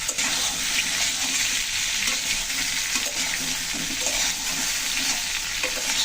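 Mixed vegetables frying in a pan, a steady, loud, continuous sizzle with faint stirring, no speech.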